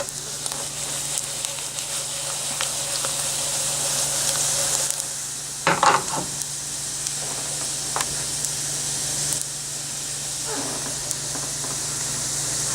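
Flour roux with sausage cooks down in a pan, a soft continuous sizzle and hiss running throughout, broken by a few brief clinks and scrapes.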